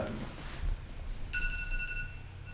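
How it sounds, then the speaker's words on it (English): A mobile phone ringing in a home studio, an electronic ring tone that starts partway through and holds steady, moderately clear over a low room hum. "Wife's phone."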